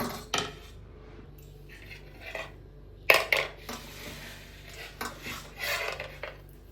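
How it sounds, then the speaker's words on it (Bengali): A boiled potato rubbed against a metal grater in short bursts of scraping and clinking, close by, with quiet gaps between strokes and no speech. "তো আলুটাকে আমি প্রথমে গ্রেট করে নেব।"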